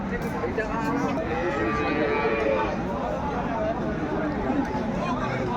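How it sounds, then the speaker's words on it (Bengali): Cows and calves moo at a busy outdoor cattle market at Aftabganj haat in Dinajpur. Low lowing rises over a dense, loud crowd, and many people talk nearby throughout. "আমরা দেখছিলাম এখানে গাভী বাছুর"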